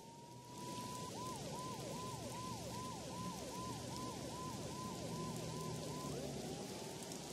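In the video game Max Payne 2, a police siren wails in fast repeating yelps over a steady hiss like rain, then shifts to a slower rising tone near the end.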